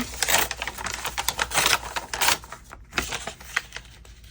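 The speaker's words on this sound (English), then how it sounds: "if we rip this page in half" A paper page is ripped in half, giving dense, crackly tearing bursts up close, with a few brief pauses and no talking.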